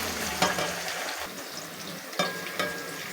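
Onions frying in oil in a kadai, a soft steady sizzle with a few sharp scraping stirs of a spoon against the pan, close and alone.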